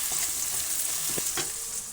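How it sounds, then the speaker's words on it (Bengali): Steady sizzling of onions frying in a pan for a meat dish, with a few scraping stirs, close up and without any talking. "এখানে আমি মাংস রান্না করার জন্য পেঁয়াজটা ভেজে নিচ্ছি"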